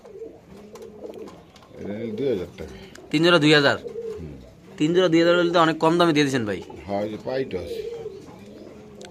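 Pigeons coo at a pigeon seller's stall, with soft repeated throaty calls running under and between steady bargaining voices. Men discuss prices for pairs of birds.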